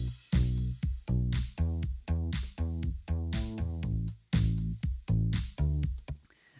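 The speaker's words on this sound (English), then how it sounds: "So I added firstly a thumb bass," A thumb bass stacked with a synth bass plays the same melody in Logic Pro alongside drums, giving a thicker, heavier low end to a loud, rhythmic bass line that repeats for several bars without speech.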